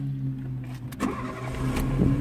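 A 2001 Volkswagen Polo's engine restarts after a fault-code reset: a brief starter crank catches into a steady low idle hum, close up and fairly quiet, with no talking.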